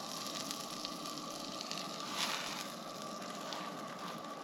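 Oil and butter sizzle steadily in a hot skillet at a mountain campsite, a continuous soft crackling hiss with a brief louder flare midway, no voices.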